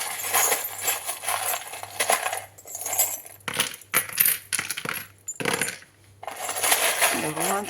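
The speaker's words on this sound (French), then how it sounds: "désolé si je fais un petit peu de bruit avec les breloques." Metal charms clink and jingle while being handled during a horoscope tarot reading, a busy run of small bright jangles and taps close by, with brief quieter gaps and a voice speaking near the end.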